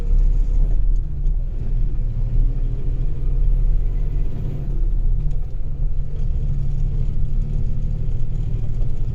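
Steady road traffic on a rough, dusty national highway near Payyoli, with continuous deep engine rumble from passing cars and buses, loud and close throughout without a break.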